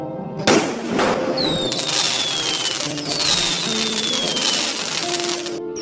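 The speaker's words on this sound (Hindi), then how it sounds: "अगले दिन दिवाली को चुड़ैल खूब पटाखे जलाती है।" Diwali firecrackers burst one after another, with sharp crackles and whistling streaks rising over a continuous roar of explosions.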